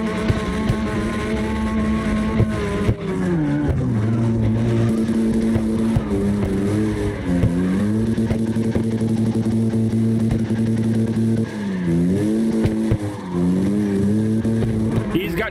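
A yellow Porsche GT3 RS slides through a drift in a racing game, its engine droning steadily with rising and falling pitch as the car swings through corners, loud and continuous with a commentator talking over it.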